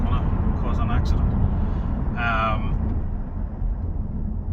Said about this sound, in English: It seems to be running off a cylinder slightly, but listen